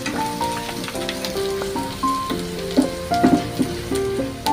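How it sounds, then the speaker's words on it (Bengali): Onions frying in a hot pan on a home kitchen stove, a steady close sizzle with light crackles running throughout, with soft music playing alongside. "পেঁয়াজটাকে ভালো করে লাল করে ভাজবো।"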